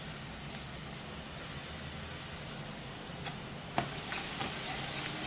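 Ginger garlic paste sautéing with browned fried onions in a pan, a steady broadband sizzle throughout with a few light stirring clicks near the end.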